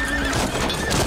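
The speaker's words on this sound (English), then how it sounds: "Oh, the horses!" Horses in a TV show gallop with busy clip-clopping hooves while one gives a loud neigh, the sound thick and close for about a second.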